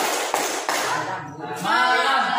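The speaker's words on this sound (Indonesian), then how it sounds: "Coba tepuk pagi, siang, malam," Two short, crisp hand claps sound in a classroom concentration game, spaced apart between bursts of talking by a teacher and pupils.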